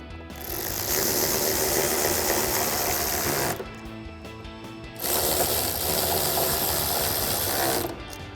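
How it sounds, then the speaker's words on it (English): Ratchet with a 10mm socket driving screws on a 2021-2024 Ford Bronco during a tail light install, a loud, steady mechanical whirring in two long bursts separated by a short quieter pause. "Then we'll go ahead and reinstall our two 10mm screws here using our 10mm socket on our ratchet."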